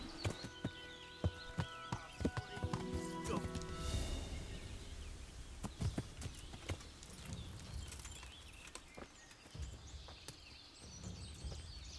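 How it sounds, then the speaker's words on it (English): A horse ridden in the video game Kingdom Come: Deliverance clip-clops in a steady rhythm of hoofbeats, with sharp clicks and some musical or ambient tones underneath, fairly quiet overall. "We're on our horse."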